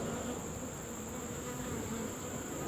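Honey bees swarm around a nuc frame, a dense continuous buzzing hum that stays steady and close throughout with no voices.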